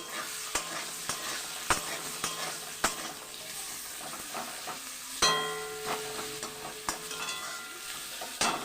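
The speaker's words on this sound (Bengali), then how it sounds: "এবার সামান্য একটু নুন দিয়ে এটাকে আমি একটু লাল করে ভেজে নেব" Radish pieces fry in oil with turmeric in a pan, giving a soft continuous sizzle broken by repeated sharp scrapes and clinks of a spatula stirring, heard up close with no talking.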